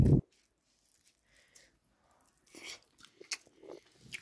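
Rice with a thin bata fish curry eaten from a banana leaf, with quiet, close, intermittent wet chewing and soft crunching after an initial thump and a stretch of near silence.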